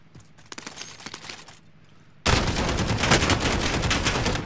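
Gunfire in a shooter video game: scattered shots at first, then a sudden dense burst of continuous loud firing filling the second half.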